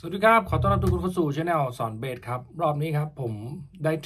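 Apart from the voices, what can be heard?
No distinct noise like a dog, phone or traffic.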